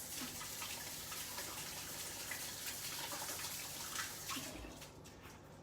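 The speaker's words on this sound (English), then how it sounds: "I'm gonna wash my hands." A kitchen tap runs steadily while hands are rinsed beneath it, a soft continuous splashing gush that fades toward the end.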